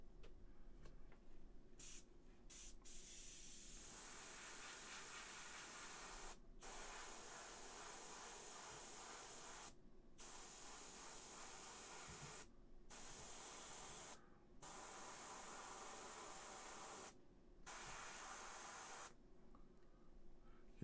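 An airbrush sprays paint onto a McFarlane Hellblaster Primaris marine model, giving a steady close airy hiss in long bursts broken by short pauses, with no talking.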